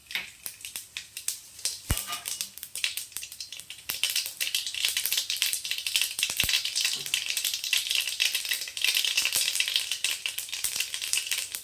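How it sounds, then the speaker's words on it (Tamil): Mustard seeds and urad dal spluttering in hot oil in a kadai, a dense continuous crackle and popping with a few sharper snaps, steady and close, no voices. "கடாய் வச்சிட்டேன், எண்ணெய் சேர்த்துக்கலாம். கடுகு உளுத்தம் பருப்பு சேர்த்துக்கலாம்."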